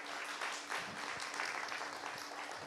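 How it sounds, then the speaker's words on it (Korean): Studio audience applause at a Korean talk programme, a soft, continuous wash of many hands clapping, heard faint and far off for under three seconds. "한번 큰 박수 보내주시기 바랍니다."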